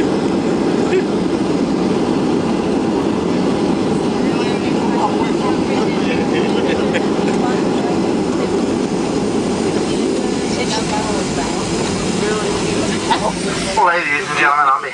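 A Southwest Airlines airliner lands at San Francisco in FSX, with a constant loud rumbling roar and hiss of the engines and rollout that continue the whole way, and a muffled voice under it near the end.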